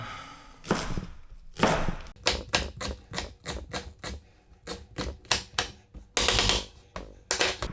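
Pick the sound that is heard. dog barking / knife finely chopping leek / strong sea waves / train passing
knife finely chopping leek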